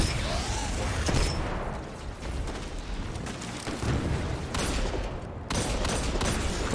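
Dense, loud gunfire and blasts from the video game Destiny 2, a continuous barrage of shots and impacts with sharp bursts and no clear gaps.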